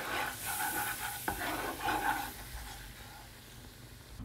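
Butter and flour get stirred in a pan for creamy lemon chicken, a close, continuous scraping and sizzling with one sharp knock of the utensil, fading softer toward the end.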